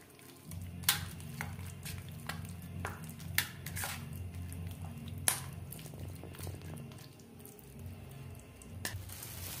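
Marinated chicken for a crispy chicken fry being mixed by hand in a bowl, a steady wet squishing and stirring with a few sharper clicks, close and moderately loud, no voices.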